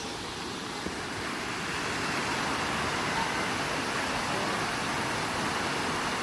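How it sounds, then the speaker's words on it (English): McCormick Creek Canyon Falls in McCormick Creek State Park, Indiana, roaring as a steady, broad rush of falling water heard up close, constant and unbroken with no voices. "It's actually known as McCormick Creek Canyon Falls."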